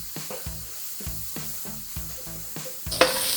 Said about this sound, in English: I'm gonna start off with the mushrooms, onions, and garlic